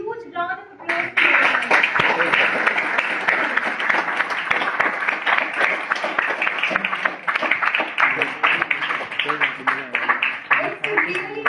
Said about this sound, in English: please give a huge round of applause to